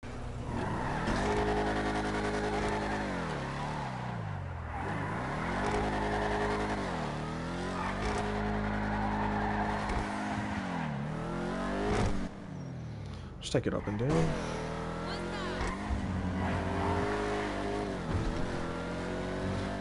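A Vigero ZX muscle car in a video game revs up and down while driving, its engine rising and falling in repeated sweeps, loud and close, with a brief tire squeal, as someone talks over it.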